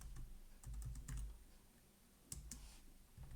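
Keys clatter on a computer keyboard in a few quick bursts separated by short pauses, soft and close in a quiet room, with no voice.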